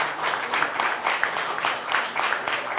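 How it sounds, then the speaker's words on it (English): An audience at an Indian cancer institute's first foundation day ceremony breaks into dense, sustained applause, a continuous wash of hand claps with no voices over it, moderately loud and filling the hall. "Let's close the ceremony with a round of applause for everyone who made this day possible."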